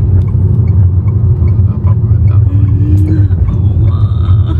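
Steady, loud rumble of road traffic in a jam, cars idling and creeping along at close range, with faint engine revs and no talking over it.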